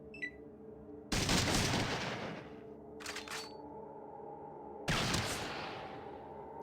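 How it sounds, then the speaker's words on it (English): Fallout 2 pipe rifle gunfire: sudden loud broadband cracks that decay slowly, one around a second in, a shorter burst near three seconds and another near five, over a low droning game background. "Go on then, use your one round in your pipe rifle there, Lenny"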